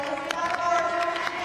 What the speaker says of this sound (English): to the warm acclaim of this big crowd here on Sunday afternoon here in Manchester